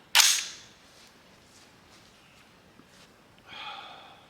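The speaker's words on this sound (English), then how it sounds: "Here's its true test, see if it'll shoot this cheap crap." A single sharp report from an Anderson AM15 rifle firing cheap ammunition, loud at onset and fading quickly into background noise, with a softer rustle later.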